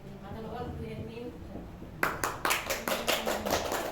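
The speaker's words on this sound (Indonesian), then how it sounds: "Tepuk tangannya buat Jeremy sama Fitri, ya." A classroom audience breaks into clapping after a few seconds of murmuring voices, the rapid, uneven hand claps coming close and fairly loud for the last two seconds.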